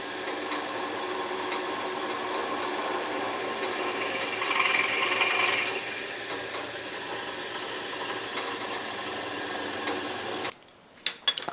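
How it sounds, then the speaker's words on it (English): A steady mechanical whir of a power drill biting through an aluminium plate, continuous for several seconds with a brief louder surge midway, then a few clicks and handling noise. "We'll just drill right through, two on each side, and bolt these onto that aluminum plate."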